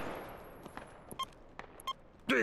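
Scattered, faint gunfire in the military shooter Project Reality, a few distant single shots and short bursts popping at irregular intervals over a low ambient hiss, with a sharper rattle at the very end.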